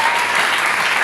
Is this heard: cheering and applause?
yes